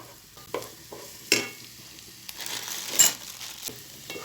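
Onion and garlic sizzle softly in a pan while a utensil stirs them in scraping, intermittent strokes, close and fairly clear with no talk.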